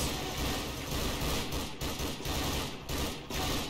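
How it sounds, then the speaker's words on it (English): Soldiers in a Garry's Mod battle fire weapons in a dense, continuous fusillade of rapid gunshots, loud and close, with brief gaps between bursts and no voices. "They're trying to shoot at them."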